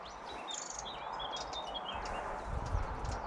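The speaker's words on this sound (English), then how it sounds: "There it is. Aye, little wrens." Little wrens call outdoors along a hedge during a walk, faint high chirps and short twittering notes scattered over soft wind and ambient rustle, with some footstep-like low thuds late.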